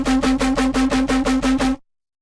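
A drum and bass synth patch from Serum, run through Decapitator analog saturation, pulses in about ten quick even repeats with a gritty, bright, heavily driven tone over a solid sub bass, loud and upfront before stopping dead.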